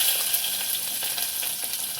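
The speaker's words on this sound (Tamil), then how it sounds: "நல்லா வதங்கட்டும்" Onions fry with mustard seeds and fennel in a hot pan for egg gravy, giving a steady, close, bright sizzle that holds for two seconds.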